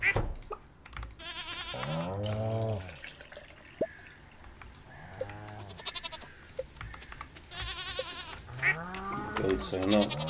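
Goats bleat on a winter farm in the video game Stardew Valley, a few short wavering cries in separate bursts, moderately close, mixed with soft game sound effects and a voice talking.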